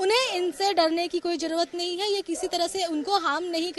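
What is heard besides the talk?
None of the usual background noises is heard.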